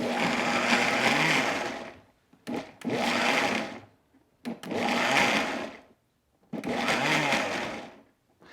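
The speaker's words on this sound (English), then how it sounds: "I'm just trying to chop it up, which the blender does that perfectly." Blender chopping parsley for homemade hummus, running loud and close in four bursts of roughly two seconds each, separated by short pauses, with no talking.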